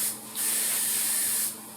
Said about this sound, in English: make sure you're spraying your leading edges, your trailing edges, spray all of those